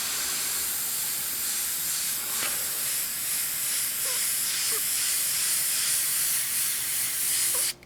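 A steady, fine hiss of an Iwata HP CH airbrush spraying paint runs nearly nonstop and close by, with a few faint clicks, then cuts off abruptly at the end.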